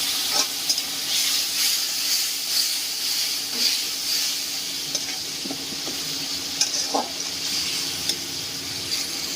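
Spice paste with ground cumin and a splash of water fries in oil for a Bhetki fish curry, a steady close sizzling hiss broken by occasional stirring scrapes.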